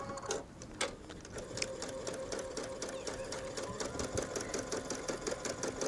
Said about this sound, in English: let's go ahead and stitch around these flowers